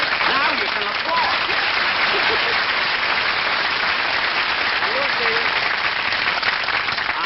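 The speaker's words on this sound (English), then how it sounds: "Now you can applaud." A studio audience at a Jack Benny Program taping with a guest star claps steadily, a dense, even wash of applause that stays loud throughout, with a few faint voices underneath.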